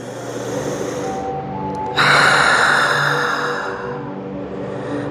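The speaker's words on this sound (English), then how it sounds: "Take a deep cleansing breath." Deep cleansing breath during a power yoga class, a long loud airy inhale rising sharply partway through and then fading slowly, close and alone without speech.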